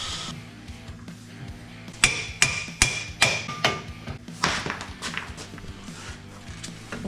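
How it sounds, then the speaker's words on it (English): A hammer strikes repeatedly in a steady series of sharp, ringing blows over a low background hum, with no one talking. "Have me a hammering device, Scoop."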